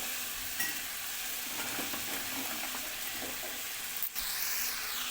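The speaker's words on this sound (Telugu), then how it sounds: "ఇప్పుడు కట్ చేసి పెట్టుకున్న బెండకాయ ముక్కలు అయితే వేసుకోవాలి" Cut okra pieces fry in a pan for a tomato curry with a steady, close sizzle while being stirred, and a brief scrape or knock comes near the end.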